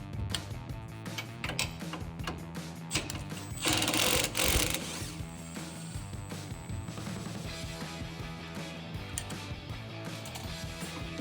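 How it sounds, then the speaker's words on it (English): Ratchet wrench working a 15mm rear tailpipe bolt on a Chevrolet Silverado exhaust system, a steady run of fast, close mechanical clicking with a louder metallic rasp partway through, no talking. "Now removing the driver's side rear tailpipe bolt is a 15mm."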